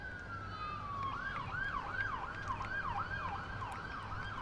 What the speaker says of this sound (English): There's a lot of sirens today, by the way, just in case you haven't noticed.